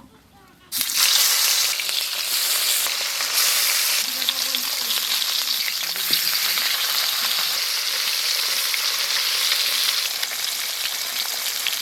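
Katla fish drops into hot mustard oil in a kadai, setting off a sudden, loud sizzle that swells and then holds as a steady, close frying hiss with faint bubbling underneath.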